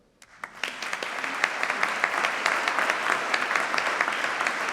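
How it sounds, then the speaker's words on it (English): Graduates and audience at a University of Manchester graduation ceremony break into applause, building quickly from a few claps into a sustained, even wash of clapping from a large indoor crowd. "Give yourselves a round of applause."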